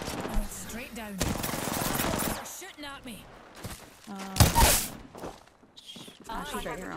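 Automatic gunfire in the video game Apex Legends, sustained bursts and sharp cracks of shots mixed with footsteps and game effects, with people talking over the action.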